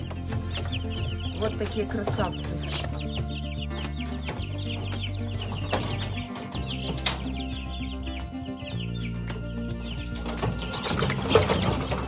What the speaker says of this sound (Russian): это цыплята, которым уже 2 недели.